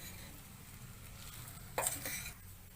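A spoon stirs tomato rice in a pot, giving soft quiet scraping, with one sharper clatter of utensil against metal near the end.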